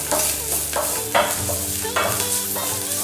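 Spices and curry are stirred in a frying pan, with rhythmic scraping strokes roughly every half second over a constant sizzle, close and fairly loud.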